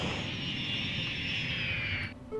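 An airplane comes in to land at an airport in the city-building game Cities Skylines, a steady whining jet engine roar held at moderate volume that cuts off abruptly near the end, with no talk.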